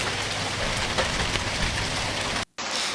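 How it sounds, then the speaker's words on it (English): Hail pours down during a severe storm near Pinerolo in the province of Turin, Italy, a loud, dense roar of pelting ice that cuts out briefly near the end and then resumes. "Hail has started to fall in an area near Pinerolo."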